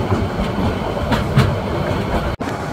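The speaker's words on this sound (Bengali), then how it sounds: "816 আন্তনগর পর্যটক এক্সপ্রেস, একটি বিরতিহীন আন্তনগর ট্রেন যা বাংলাদেশ রেলওয়ে পূর্বাঞ্চলের অন্তর্গত" The Porjotok Express, a nonstop intercity train from Cox's Bazar to Dhaka in Bangladesh, rolls along with a steady, loud rumble and rhythmic wheel clatter, heard from on board, briefly dipping for a moment near the end.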